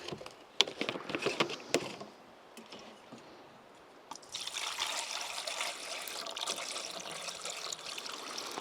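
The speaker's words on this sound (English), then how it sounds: "We'll put a little bit more water in here." Water poured into a container at a campsite by a creek, starting with scattered splashes and drips, then a steady trickling stream that continues to the end.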